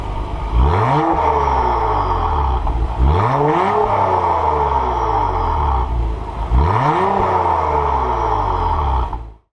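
A 2022 Acura TLX Type S accelerates hard on a test drive, its engine rising in pitch through three strong pulls with shift breaks between, loud and steady from inside the car before cutting off at the end.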